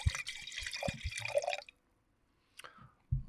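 Wine poured into a glass, a splashing liquid stream for about a second and a half, then a pause, a faint clink and a brief second splash near the end.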